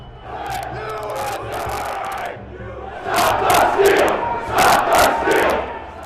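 A large crowd of rioters storming the Capitol roars and shouts en masse, a steady din swelling into louder surging cheers and cries in the latter half.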